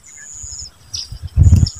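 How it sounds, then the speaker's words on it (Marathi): A bird in the countryside gives a few thin, high chirps, fairly close, along with a soft thump of handling noise and no voices. "पाखरच वे रे"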